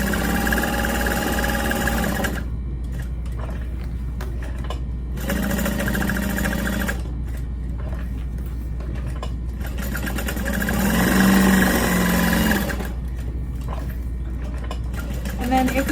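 A sewing machine stitching fabric with short back stitches at a corner, running in loud bursts of steady mechanical whirring separated by pauses, with a constant low hum underneath.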